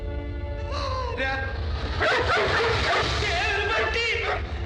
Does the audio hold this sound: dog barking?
yes